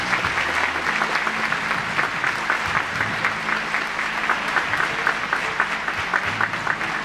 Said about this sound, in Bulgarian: Аплодисменти за нея.